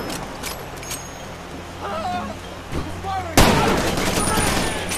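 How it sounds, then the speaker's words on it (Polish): Rapid bursts of gunfire crackle in the video game Far Cry 2, with scattered shots before a loud sustained volley near the end, in a junkyard. "Do kogo ty strzelasz?"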